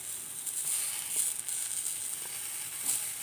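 Two small tomatoes sliced into rounds sizzle in a frying pan, a steady bright hiss with crackles and spits rising and falling, close and alone with no talk.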